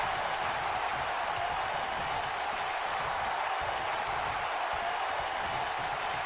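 A WWE 2K19 arena crowd during a handicap match produces a steady, dense roar of cheering and applause, continuous and even in level throughout, with no distinct talk.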